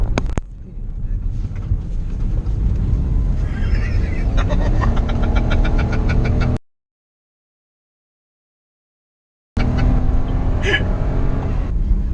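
A tiny Honda S660 turbo kei car on a road past roadworks, its engine droning steadily under heavy wind rush as the throttle is released, cut by a few seconds of total silence before the drive noise resumes.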